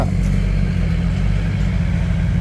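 Farm tractor engine running steadily, a loud continuous low rumble with a dense, throbbing mechanical drone and no voices over it.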